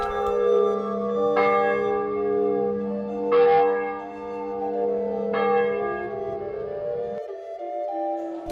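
Cathedral church bells peal in a slow, resonant sequence of rich ringing strikes, each hum sustaining and overlapping the next, fairly loud and alone before fading near the end.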